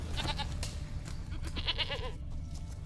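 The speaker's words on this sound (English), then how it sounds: "Here, goat." A goat bleats in The Witcher 3, a few short wavering calls over steady game ambience, close and fairly clear with no talking.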